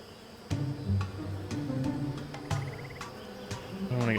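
Bees buzz around hives in a rainforest in the game Amerzone, a steady low droning hum with sharp clicking ticks at regular half-second intervals and a rising whine at the close.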